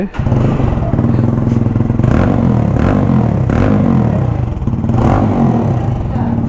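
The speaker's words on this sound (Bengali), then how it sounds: "একটা জিপিএক্স ডেমন দেখলাম যেটার এক্সজস্টের সাউন্ড অনেক বেশি লাউড" A GPX Demon motorcycle with a very loud exhaust revs hard and continuously nearby at a service shop, a deep, throaty engine roar that surges and falls over several seconds.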